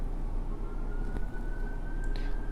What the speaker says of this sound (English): that is a fire wagon or ambulance. That shit goes up and down the street a lot